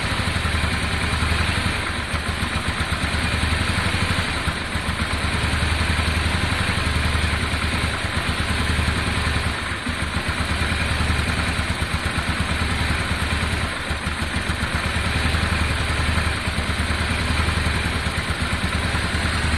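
A Honda Deauville motorcycle engine idles steadily at first start-up after a carburettor clean, with a loud, continuous, even mechanical clatter throughout and no talk.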